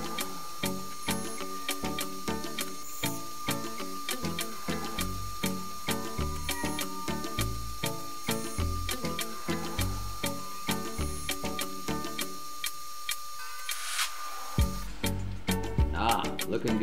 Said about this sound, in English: so let's start cutting some threads